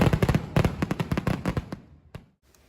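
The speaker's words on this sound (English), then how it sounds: "The two-day celebration ended with an impressive fireworks display." Fireworks bursting at the close of a two-day festival celebration: a rapid string of sharp, loud bangs and crackles for about two seconds, then the volley thins to a couple of isolated pops before falling quiet.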